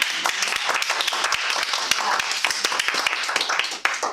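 An audience at a Toastmasters meeting claps in a dense, steady patter of overlapping hand claps that runs the whole stretch, with voices mixed in underneath.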